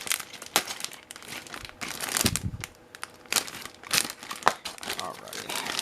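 A plastic parts bag from an AMT Chevrolet Camaro Z28 model kit crinkles and rustles up close in repeated bursts of handling, with some tearing as the bag is opened.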